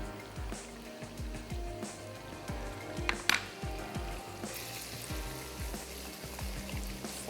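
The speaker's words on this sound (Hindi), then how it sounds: "फ़ौरन से चलाते जाएंगे ताकि दही मिक्स हो जाए फ़ौरन ही और फटे नहीं" Whisked yogurt and black pepper powder stirred into a pot of white beef pulao, giving a soft bubbling sizzle under steady low rhythmic scraping of the spoon, fairly quiet and close.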